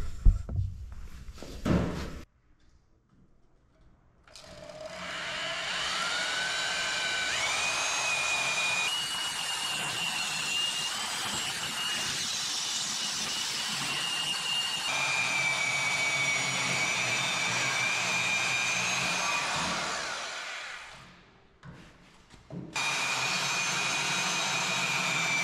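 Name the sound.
bandsaw cutting scrap steel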